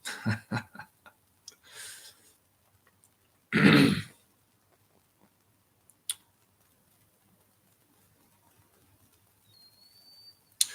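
A few short coughs from someone with the flu near the start, then one loud harsh cough a few seconds later, followed by quiet with a faint click and whistle-like tone.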